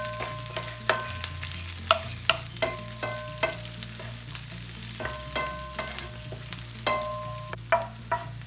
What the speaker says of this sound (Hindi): एक साइड पे हमारा ये लहसुन और प्याज ब्राउन हो रहे हैं